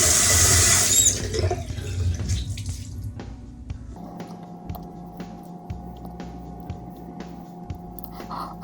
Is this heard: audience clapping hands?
no